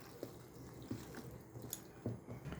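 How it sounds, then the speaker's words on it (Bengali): Mutton being mixed by hand with yogurt, mustard oil, ginger-garlic paste and green chilli paste, giving soft wet squelching squishes in a few separate bursts, close and fairly quiet. "সর্ষের তেল দিয়ে মেখে নেব"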